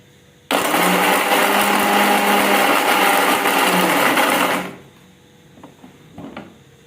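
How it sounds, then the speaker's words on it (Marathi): An electric mixer grinding roasted coconut masala paste for a spicy mutton rassa in a home kitchen, a loud steady whirring roar for about four seconds that stops abruptly, followed by faint clinks. "हे सगळं वाटण आता मी मिक्सरमध्ये बारीक करून घेते"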